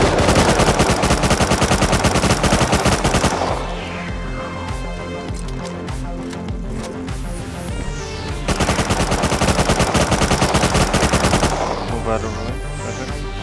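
Rapid automatic gunfire from the video game Rust rattles loud and close in two long bursts, with a quieter stretch of scattered shots and clatter between them.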